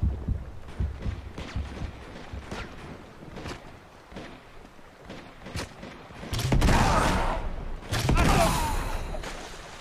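Gunfire from the video game Uncharted 2, with a few scattered muffled shots early on and then two louder, broader bursts near the end, all mixed with game ambience and background noise.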